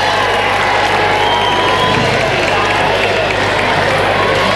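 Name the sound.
audience applauding loudly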